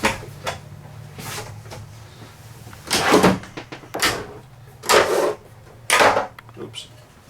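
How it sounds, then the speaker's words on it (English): Cabinet doors and drawers in the kitchen of a 2018 Newmar Canyon Star 3710 motorhome opening and closing, a series of sharp thumps and sliding clacks spaced a second or so apart, close by. "let's start opening cabinets and drawers."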